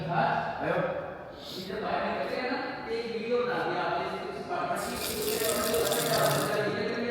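Steady stream of water running from a kitchen tap into a sink in a Dubai apartment, continuous and close, with a brighter hissing splash toward the end.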